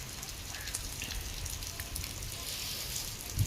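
Heavy rain pours steadily outside a home, a dense, even hiss of drops on surfaces with soft patters throughout and a brief louder knock near the end.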